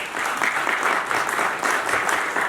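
Crowd applause at a training and awards programme in Patna, a short burst of dense, even clapping that fills the whole moment without speech.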